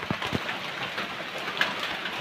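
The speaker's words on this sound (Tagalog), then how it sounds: "Umuulan lagi." Steady rain patters across a surface in a continuous hiss, with a few soft thumps and drips mixed in.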